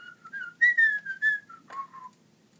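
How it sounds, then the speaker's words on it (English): A person whistles a short tune with sliding, wavering notes in quick phrases, clear and close with silence between. "I, very young King Gerard, hereby proclaim that everyone can start whistling again"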